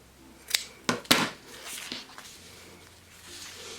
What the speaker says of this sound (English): I'm going to just trim off the binding in line with the pocket edge